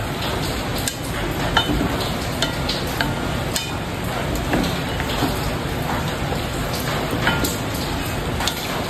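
Chicken liver and gizzards are stirred in a hot pan, making a loud, continuous sizzle broken by scattered scraping and clacking from stirring, with no clear talking.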